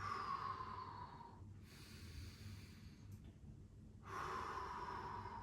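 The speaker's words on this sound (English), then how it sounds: "taking some nice deep breaths here." Slow, deep breaths during a stretching routine, a long airy exhale fading out, a quiet pause, then another breath rising near the end, close and soft.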